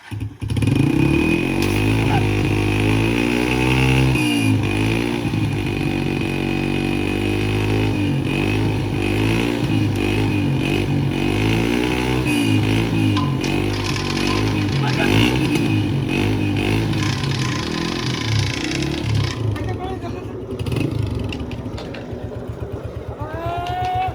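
A motorcycle engine driving a tube well water pump runs steadily and loudly, idling and revving with a clattering mechanical rumble, and voices talk over it now and then.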